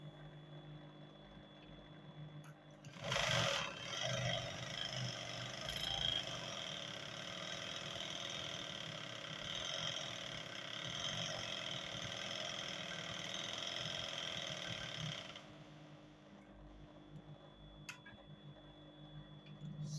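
A sewing machine stitches elastic for cargo pants in a close, steady mechanical run with a faint ticking, starting after a brief pause and stopping abruptly near the end, followed by small handling clicks.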